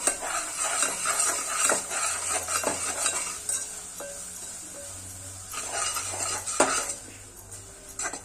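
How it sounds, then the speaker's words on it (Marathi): A spoon scrapes and clinks against a pot as jaggery melts in ghee, the metal stirring loud and close over a faint sizzle and a quiet background tune. "आता आपण या पातेल्यात तूप घालूया आणि हा गूळ टाकून घेऊया। छान गूळ मेल्ट करून घेऊया।"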